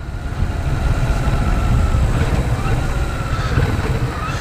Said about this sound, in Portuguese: Essa moto tá andando gostoso. Você acelera, ela já puxa mesmo.